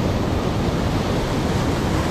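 Heavy ocean surf breaking big waves as a steady broadband roar that stays loud and unbroken throughout, with wind mixed in and no voices.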